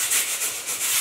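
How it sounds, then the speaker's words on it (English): Sandpaper rubbing back and forth across a metal cover plate for a Kubota compact tractor front loader, a close, steady scratchy rasp with a rhythmic pulse of strokes. "Right sanding."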